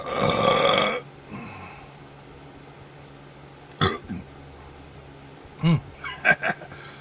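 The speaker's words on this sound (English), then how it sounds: "that's a baby belch." A person eating a sloppy waffle lets out a long loud belch, then after a quiet stretch a few shorter gulps and small burps follow, close to the microphone.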